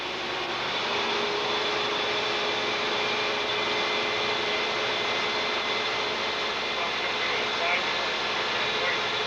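A truck's air compressor runs steadily, building brake air pressure toward 125 psi before the governor cuts out. It gives a continuous, fairly loud hiss and drone with no breaks, and someone speaks faintly underneath.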